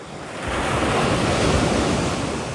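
Sea waves breaking on the shore at a fishing coast, a loud continuous rushing surf that swells in after a brief quieter start, with wind buffeting the microphone.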